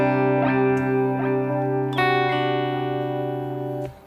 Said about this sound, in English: if you do turn the delay pedal off, the delay sound is going to naturally fade off like this.